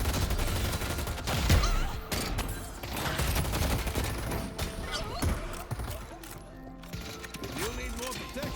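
Gunfire in the hero shooter Deadlock, with steady streams of rapid shots and impacts under game effects, while people talk over the fighting.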